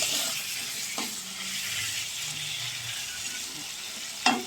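Spice masala frying in a pan, a continuous close hiss of sizzling oil with a couple of sharp scrapes and knocks from stirring.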